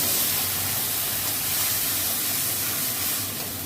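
Ginger, onion, garlic and tomato paste sizzling loudly in a pan with fried potatoes, a steady broadband hiss that holds even throughout with no voices.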